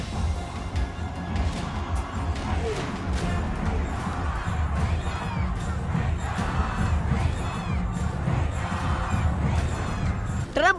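A large crowd fills the streets of Iran, shouting slogans in a steady, roaring mass of voices with chanting swells and scattered cries throughout.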